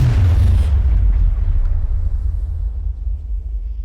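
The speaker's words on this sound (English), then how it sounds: "an explosion tore through the space behind him" A single loud explosion bursts at the start, then rolls into a deep rumble that slowly fades over several seconds.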